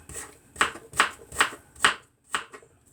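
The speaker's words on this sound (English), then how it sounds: "I'm just going to give it another little chop" A knife chops through onion on a board in six quick, close, crisp strokes, evenly spaced with a brief pause before the last one.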